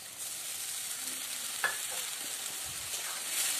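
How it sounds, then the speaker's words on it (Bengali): Ginger, onion and garlic masala with chili powder and turmeric sautéing in a pan: a soft, steady sizzle with a few stirring scrapes and clinks, close and fairly quiet, no voices. "এটাকে কিন্তু খুব ভালো করে কষিয়ে নিতে হবে।"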